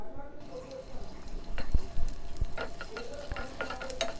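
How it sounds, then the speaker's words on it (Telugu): Green chillies fry in a pan of hot oil, giving a close, steady sizzle with scattered crackles and pops, and a few stirring clinks. "ఈ ఆయిల్ కొంచెం వేడెక్కిన తర్వాత పచ్చిమిర్చి వేసుకోవాలి"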